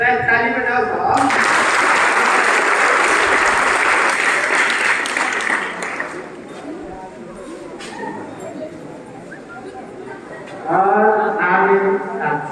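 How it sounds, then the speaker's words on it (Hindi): An audience claps at a students' felicitation ceremony at a coaching centre, a loud, sustained wave of applause that fades after several seconds, with someone speaking before and after. "ताली बजाओ साहब।"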